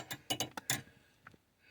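A flathead screwdriver turns a screw on a kitchen cupboard door hinge, giving a quick series of four or five sharp, close metallic clicks, then a faint tick and near quiet.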